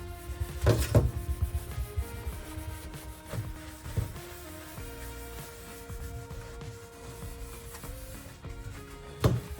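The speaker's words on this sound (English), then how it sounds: "and you just scrub away" Scrubbing a sink with The Pink Stuff cleaning paste makes a steady series of rubbing, scraping strokes, a few louder scuffs and knocks standing out from a low, continuous friction noise, close and with no speech.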